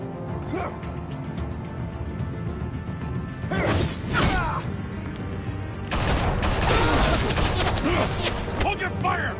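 Bursts of gunfire crackle in two loud clusters, a short volley and then a longer, denser barrage, over a busy background with voices.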